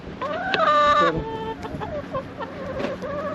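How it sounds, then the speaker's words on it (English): A chicken clucks and squawks close by, one drawn-out call followed by shorter, choppy clucks. "Here's one of my chickens."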